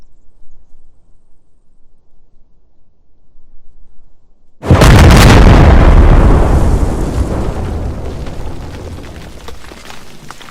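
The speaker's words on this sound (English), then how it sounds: "drop some bombs on some people" A bomb drop in the military shooter game Squad, running the Squad Ops mod: after a quiet low rumble, one massive close explosion bursts out and rolls into a long, slowly fading roar of debris and echo.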